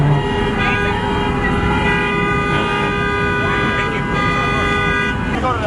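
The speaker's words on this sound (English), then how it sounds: "Listen to the horns." Car horns honk over a loud, dense crowd at a street car meet in Atlanta, with steady background noise and voices throughout.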